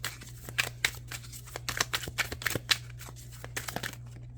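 Tarot cards being shuffled by hand, a close run of quick riffling flutters and soft slaps in irregular bursts.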